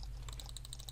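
Quick clicking of computer keys during an online horse-riding game session, a steady run of light taps at moderate level over a constant low hum.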